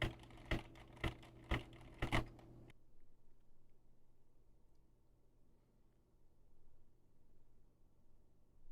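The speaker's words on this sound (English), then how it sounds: "I am typing and have Cherry MX Red switches." Typing on a mechanical keyboard with Cherry MX Red switches: about five sharp, close keystrokes in the first two seconds, then near silence with faint room hiss.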